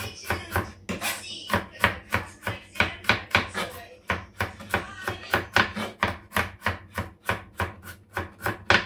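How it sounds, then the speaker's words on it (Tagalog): Luncheon meat being sliced on a cutting board with a knife for garlic fried rice, a steady run of close, crisp chopping taps spaced roughly every third of a second, with faint talk early on. "At hihiwain natin yung ating luncheon meat."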